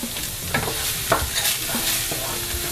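Potato lentil stew ingredients, with salt and black pepper, being stirred in a pot, a steady scraping and clinking of the spoon with a few sharper knocks over a constant faint sizzle, close and fairly loud, with no voices.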